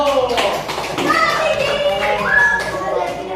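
A class of students clapping hands in a school lesson, a short ragged round of claps mixed with children's chatter and bright young voices over it.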